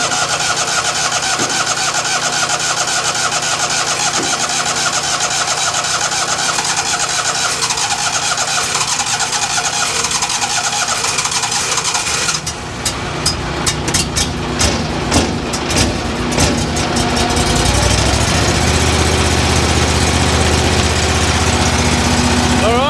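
A petrol engine given a shot of Aerostart spray, loud running noise, then a burst of rapid cranking clatter that catches into a steady, deeper idle.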